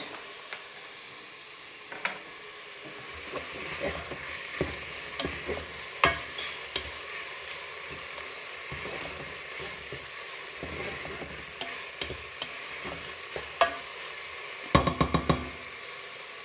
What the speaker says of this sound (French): mes lardons. que je fais revenir encore à peu près 3-4 minutes